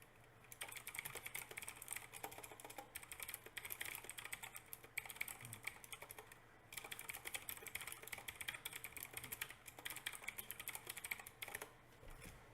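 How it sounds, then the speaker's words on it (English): Rapid, continuous clatter of fast typing on a computer keyboard, close and steady in bursts over about twelve seconds, with a few brief pauses and no talk. "I type so much faster on this keyboard."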